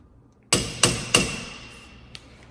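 Three sharp metallic hammer-like strikes from a ratchet being banged on brake parts of a Ford F350 truck, evenly spaced with ringing decay, followed by a faint lighter tap; no talking.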